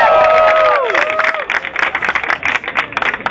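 A crowd breaks into applause and scattered cheers at the end of a freestyle rap battle round, starting over a voice's sliding shout and continuing as steady clapping.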